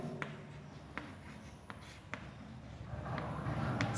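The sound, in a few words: writing an equation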